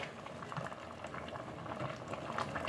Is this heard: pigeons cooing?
no